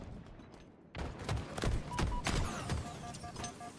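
Gunfire in a Halo match plays out as a fast, loud burst of shots after a quieter start, with sharp repeated cracks and electronic game tones layered over them.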